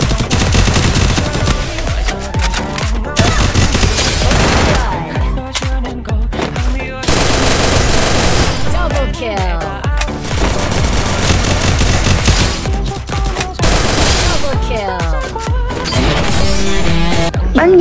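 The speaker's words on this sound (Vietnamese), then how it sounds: "Cứ tập trung bắn đi" Rapid automatic gunfire from the Free Fire battle royale game rattles loudly and almost without pause, mixed with game effects and occasional crashes, filling most of the stretch at full volume.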